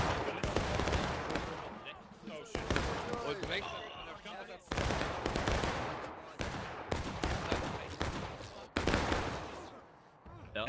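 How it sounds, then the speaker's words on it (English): Rifle fire in a War of Rights battle crackles in repeated sharp bursts, several loud cracks spaced every two seconds or so over a continuous rumble of distant shots, with a voice talking underneath. "Now they are starting to draw some fire."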